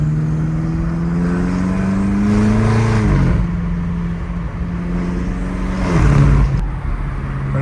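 A BMW F90 M5 with a titanium straight-pipe exhaust drives along in eco mode, its loud droning note rising and falling through gentle accelerations and shifts. No one talks over the engine.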